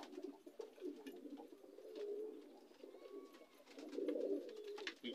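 A red-marked crested female pigeon with white eyes gives soft repeated coos, several rolling phrases close by in a quiet setting, with faint background noise.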